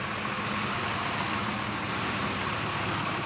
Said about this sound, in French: Du vacarme des camions frigo